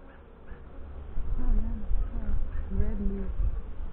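Honey bees buzz around an open hive during a spring inspection, a close, continuous droning hum that swells and wavers, with a low voice murmuring over it.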